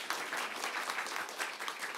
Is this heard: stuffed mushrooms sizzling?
no